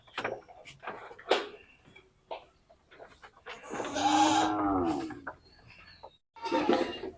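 Goats bleat at a goat farm in West Bengal, where mother goats come out with their kids; calls rise mid-clip into a loud, sustained wavering bleat, with scattered shorter animal sounds and thumps around it.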